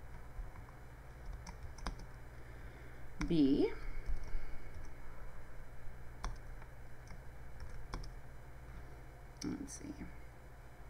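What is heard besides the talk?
typing on a computer keyboard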